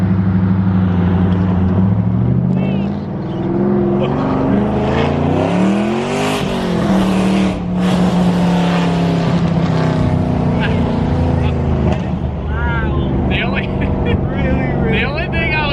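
A loud Pontiac GTO engine fitted with Texas Speed headers revs hard, its exhaust roaring and climbing in pitch several times, then dropping back, close and continuous.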